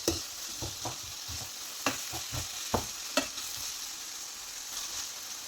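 A spoon stirs a potato and tomato curry with curry leaves in a pan, giving soft scraping strokes at an irregular rhythm over a faint continuous sizzle, close and quiet.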